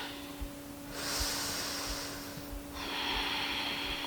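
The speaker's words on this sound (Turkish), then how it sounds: "Ve burundan sakince ver." A calm, slow exhale through the nose during a guided breathing exercise, soft airy breaths rising and falling in two long swells, faint and close with low steady hum behind.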